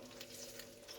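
An egg frying in a pan at home, a soft, steady sizzle and crackle throughout.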